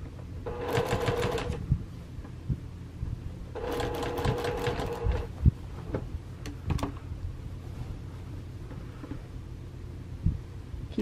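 Two short bursts of a sewing machine stitching binding around a curve of a quilt, bite by bite, each burst a quick rapid whir, with handling clicks and soft thumps in between.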